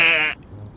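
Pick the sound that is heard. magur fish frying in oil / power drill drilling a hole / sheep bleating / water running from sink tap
sheep bleating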